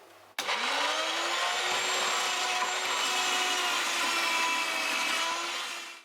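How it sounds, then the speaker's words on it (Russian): Carrots rubbed against a fine grater for a carrot Easter kulich, a steady continuous rasping scrape lasting several seconds at even, fairly loud level with no talking. "Натираем на мелкой терке морковь."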